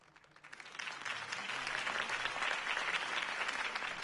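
Video game crowd from a Batman game bursts into applause, rising quickly from quiet and holding at a steady, sustained clapping roar.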